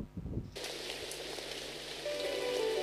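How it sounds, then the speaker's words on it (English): Heavy rain at the end of the rainy season in a visual novel game starts abruptly after a brief moment, then pours in a steady, dense hiss of falling drops. "The rain was at its strongest since it was the end of the rainy season."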